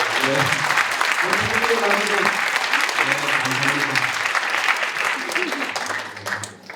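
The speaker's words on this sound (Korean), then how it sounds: "여러분 박수 한번 드립니다" A crowd applauds warmly and steadily at a 2022 New Jersey Milal Thanksgiving dinner, with voices carrying over the clapping before it tapers off near the end.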